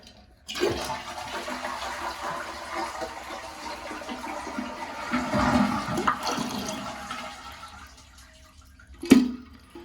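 A toilet flushes to empty its tank, with a long rushing, gurgling drain of water lasting several seconds, followed by a brief clunk near the end.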